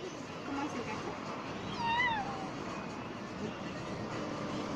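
A person imitates a cat's meow during a children's storytime reading about animal sounds, a single rising-falling vocal meow near the middle, close and clear over a steady background hiss.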